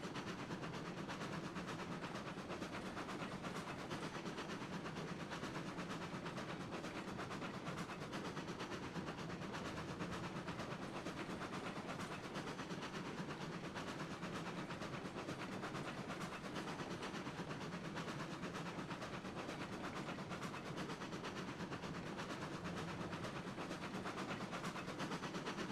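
Passenger train rolling along in the railway game Railroads Online, a constant quiet rumble and hiss of wheels and engine that stays even for the whole stretch, with no voices over it.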